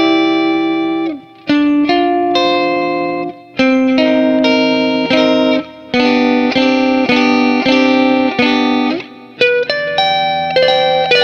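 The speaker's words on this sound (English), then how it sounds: "Let's split the coil, see if we can get some glassy Strat tones." An electric guitar with a glass neck plays with its pickup coil split for a bright, glassy single-coil tone: clean, ringing chords and notes in short phrases with brief pauses, loud and close, with no voices.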